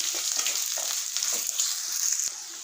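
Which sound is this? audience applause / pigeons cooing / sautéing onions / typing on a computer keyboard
sautéing onions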